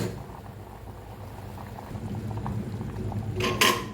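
Homemade South Indian sambar bubbles steadily in a pot, a close, continuous soft boil with a brief louder surge of bubbling or stirring near the end.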